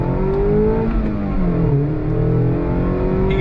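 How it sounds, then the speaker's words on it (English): The induction note of a 2022 Mazda MX-5 Miata Club's four-cylinder engine rises as the car accelerates, heard from inside, loud and steady, with shifts in pitch and no talk. "You got that sound of the induction off of the four-cylinder."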